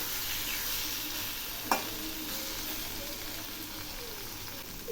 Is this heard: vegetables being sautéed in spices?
yes